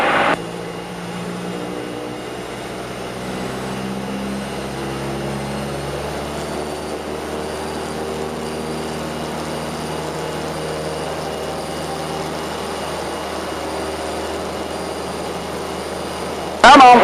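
A Skyhawk propeller plane's engine holds a steady, loud drone through its takeoff roll, with a brief louder burst at the very end.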